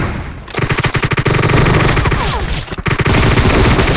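Rapid automatic fire from an M762 rifle in the mobile shooter BGMI, loud and close, sustained bursts with a brief gap near the end before firing resumes.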